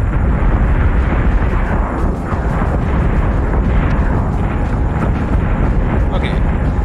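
Missile explosions in the space combat game Battlestar Galactica Deadlock form a dense, continuous wall of loud booming rumble with a few crackling bursts throughout, and no talk.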